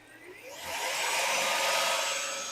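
Car engine revving up with its stock 160 amp alternator clamped and charging an LTO battery, a steady whining roar that builds over the first second and holds loud, with no talking.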